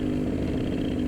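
A go-kart engine in a Legends class race drones steadily at mid pitch, a constant buzzing hum with no clear revs or pauses, heard at a moderate distance.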